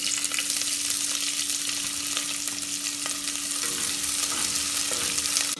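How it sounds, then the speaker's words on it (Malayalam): Two long-sliced onions sautéing in oil with cinnamon, cloves and cardamom for Eid biryani, a dense continuous sizzle with faint stirring scrapes, close and even throughout; no talking. "ഇതിലേക്ക് 2 ഉള്ളി നീളത്തിൽ മുറിച്ചത് ചേർത്ത് വഴറ്റുക."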